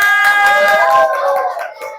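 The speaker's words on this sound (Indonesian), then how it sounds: "Beri tepuk tangan dulu buat temannya." Primary-school pupils applaud their classmates in a classroom, a short burst of clapping that fades quickly while a voice speaks over it.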